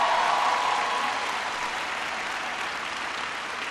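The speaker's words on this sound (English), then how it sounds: "give Aubrey a big round of applause for the great introduction" Applause from a university audience in Jamaica greets a speaker after an introduction, a dense steady wash of many hands clapping at once that tapers slightly toward the end.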